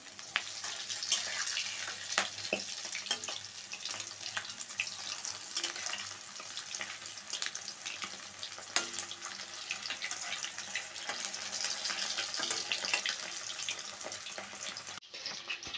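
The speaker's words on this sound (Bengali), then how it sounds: "তেলটা গরম হয়ে গেছে, মাংসগুলি ভেজে নিচ্ছি।" Chicken pieces for chili chicken frying in hot oil in a wok give a steady, dense sizzle with scattered crackles and pops, fairly close and even throughout before stopping abruptly near the end.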